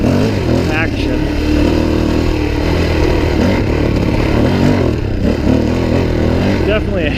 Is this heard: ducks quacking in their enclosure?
no